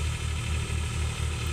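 A tractor engine runs steadily beside a thresher, a low, even mechanical drone with no voices over it.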